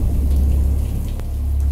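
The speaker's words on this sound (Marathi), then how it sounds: "अचानक मुसळधार पावसाला सुरुवात झाली" Heavy monsoon rain pours down on a road at night, a dense, steady hiss over a deep low rumble that never lets up, with no voices.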